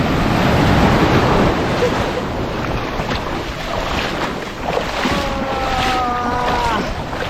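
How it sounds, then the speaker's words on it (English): Large ocean waves crash and churn on a Mexican island beach with strong current, a loud continuous broadband roar buffeted by wind noise, while a faint tonal whine runs through the later part. "can survive these huge waves"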